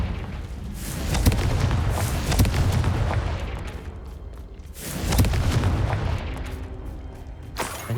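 The Confringo spell exploding in the video game Hogwarts Legacy: deep rumbling booms with crackling bursts swell twice, around the one-second and five-second marks, loud and sustained, over a dense game soundscape with no speech.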